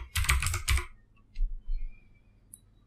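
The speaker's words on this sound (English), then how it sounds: "I have to type here" Typing on a computer keyboard, with a quick burst of close keystrokes followed by a few scattered soft clicks in a quiet room.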